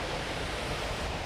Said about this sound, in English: we came out to see the waterfall.